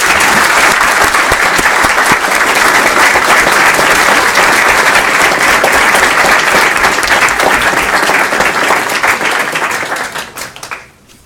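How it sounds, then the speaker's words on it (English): A crowd at a volunteer recognition event applauds two gentlemen with loud, sustained clapping that carries on for about ten seconds, then quickly tapers off. "How about a hand of applause for both of these gentlemen?"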